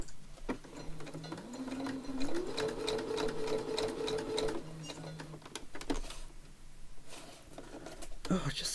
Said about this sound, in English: Just a quick little stitch around here, eh?